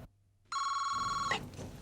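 A telephone bell rings loudly and steadily, starting abruptly after a short silence and holding a bright, sustained trill before cutting off into room noise.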